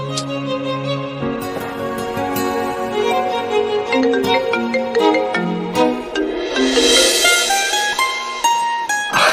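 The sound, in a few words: phone ringtone of an incoming call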